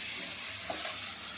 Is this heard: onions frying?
yes